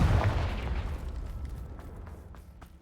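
Confringo fire spell blast in the Hogwarts Legacy video game: one heavy booming hit at the start that rumbles and slowly decays over about three seconds, loud and close.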